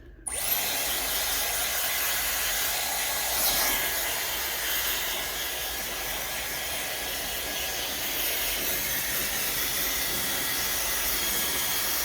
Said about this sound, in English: I'm just gonna go all over my hair and dry it with this